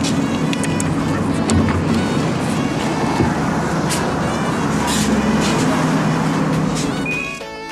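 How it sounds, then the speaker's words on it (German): Subway train ride in the city: a steady loud rumble and roar of the moving carriage fills the whole stretch, with faint clanks and squeals on top, easing off slightly at the very end. "Subway."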